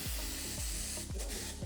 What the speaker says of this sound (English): I'm going to go in and add my texture spray.